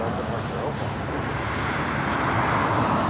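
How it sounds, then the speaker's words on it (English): A Delta Airlines Boeing 737-900ER on arrival at LAX gives off a steady, broad jet roar with wind rumble throughout, growing slightly louder toward the end. "Delta Airlines Flight 2241 coming from Seattle,"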